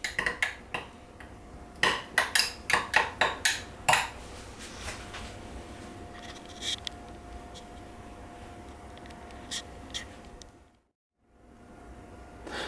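In a kitchen, a spoon or utensil clinks sharply and rapidly against a bowl while seasoned burger mixture with pepper is stirred. A burst of clatter is followed by quieter scraping, then a short silence and faint handling.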